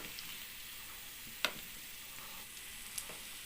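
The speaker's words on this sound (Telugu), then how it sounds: "తొందరగానే వేగిపోతాయండి గులాబ్ జాము." Carrot gulab jamun fry quietly in hot oil, giving a soft continuous sizzle with a couple of sharp pops and crackles, close and without talk.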